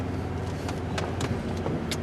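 2000 Dodge Dakota pickup out on a test drive after brake bleeding, a steady interior engine and road rumble with a few light rattles and clicks.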